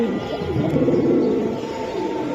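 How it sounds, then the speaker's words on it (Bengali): A Tota Hemar pigeon coos in low, throaty, rolling notes, close by and fairly loud, in a steady murmur that runs the whole stretch with no voices over it. "কবুতর ডাকতাছে কেমন"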